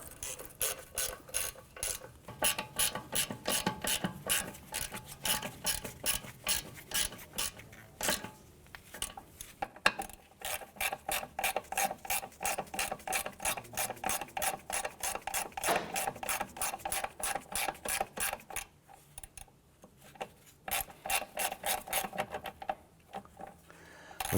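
A hand ratchet tightens the front lower ball joint bolts on a 2004-2008 Acura TL, heard as long, steady runs of close, loud metallic clicks with a few short pauses between strokes.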